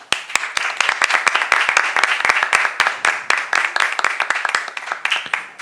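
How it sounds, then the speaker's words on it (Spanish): Dense, steady applause from a seminar audience in the Mexican Senate, many hands clapping at once for a few seconds, with sharp claps standing out near the microphone and no speech over it. "les pido un fuerte aplauso"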